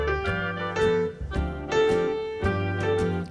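Piano playing a jazz standard along with a backing track: rhythmic chords and melody struck in a steady swing pattern, full and fairly loud, with accompaniment layered underneath and no talking.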